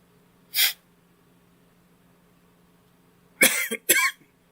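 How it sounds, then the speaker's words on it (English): A single short cough, then a quick pair of harsher coughs a few seconds later, close and loud against a quiet background hum. "Didn't mean to cough right there."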